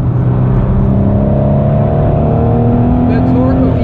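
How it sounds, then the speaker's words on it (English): Ford GT engine pulling hard on the Nürburgring, a loud, steady mechanical roar heard from inside the car with a strong low drone and rising tonal whine as it accelerates. "The torque of the engine is incredible."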